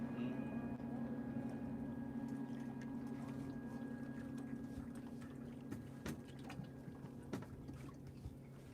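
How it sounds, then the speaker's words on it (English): A motorboat engine drones steadily across the water near a fishing boat, a low sustained hum that fades slowly as it passes, with people talking quietly over it. "Sounds like an expensive boat."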